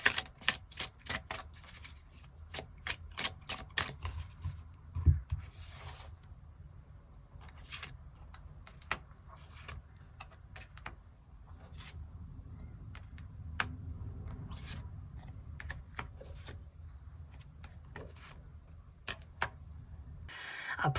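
Tarot cards are shuffled and drawn by hand, giving quick bursts of crisp riffling clicks at first, then sparser single snaps and taps over a quiet, faint background, with no one speaking.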